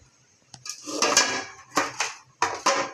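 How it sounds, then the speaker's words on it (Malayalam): Green chillies being crushed in a kitchen, heard as several separate knocking, scraping impacts with a hard metallic clatter like a pestle or utensil against a pot, each burst ringing briefly and fading at close range. "ആദ്യം മുളക് ചതച്ചെടുക്കട്ടെ"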